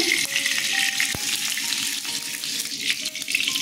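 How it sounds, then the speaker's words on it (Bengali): Mustard oil sizzles in a hot wok, a steady loud crackling hiss that runs the whole time, with faint metallic clinks and a brief knock partway through. "সর্ষের তেল দিয়ে দিচ্ছি,"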